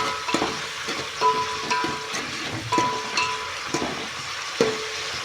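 Masala and fenugreek leaves frying in oil for chicken curry, a soft steady sizzle with occasional scraping stirs of a spoon in the pan.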